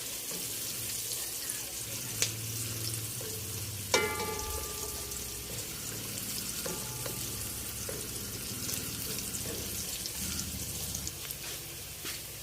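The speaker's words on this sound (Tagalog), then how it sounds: "Atin lang pong ihintayin mag-brown yung ating bawang at sibuyas." Garlic and onion frying until browned for pork-hock kare-kare, a soft, constant sizzle with a couple of light utensil clinks, close and fairly quiet with no talk.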